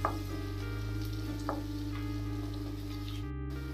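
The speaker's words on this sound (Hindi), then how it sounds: "मीडियम लो फ्लेम पर इसे गोल्डन ब्राउन करना है हमें" Onion and garlic sizzle steadily in a pan over a medium-low flame, a continuous crackling fry with a low steady hum underneath and occasional small pops.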